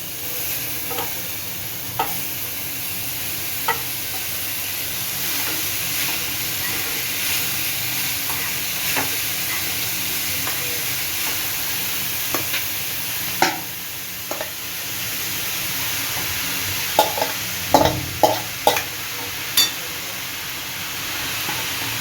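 Papaya for a chutney is stirred and cooked in a pan, with a constant broad hiss of frying and a few scattered scraping knocks that cluster toward the end.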